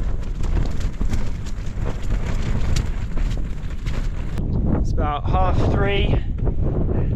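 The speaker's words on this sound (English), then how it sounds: "Pretty windy." Strong wind on a Kilimanjaro climb buffets the microphone with loud, continuous roaring gusts, then eases as someone speaks briefly over lighter wind.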